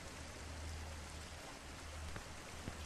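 Steady flowing water in the video game Sniper Elite 4 hisses as a constant, even wash of noise throughout, fairly faint, with no talking over it.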